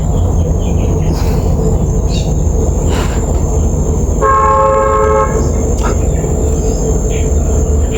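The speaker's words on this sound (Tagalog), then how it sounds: "Ang busina ng barko" A ship's horn blows loudly for about a second and a half with a steady, harmonic drone, set against continuous heavy rumbling background noise and a high constant whine. A voice is faintly heard nearby.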